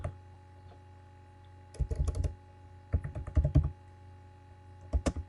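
Keystrokes on a computer keyboard as words are entered into a spreadsheet text box, arriving in three quick close-up bursts of rapid clicking separated by short pauses, with no talking.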